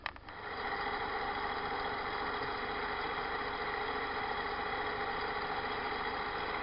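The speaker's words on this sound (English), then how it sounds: "Okay, now I can put it in the lathe." A lathe spins up and runs steadily while machining an air compressor piston, a constant close mechanical hum and whir with a brief start at the beginning, no speech.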